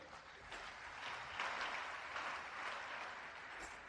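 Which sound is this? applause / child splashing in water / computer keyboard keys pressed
applause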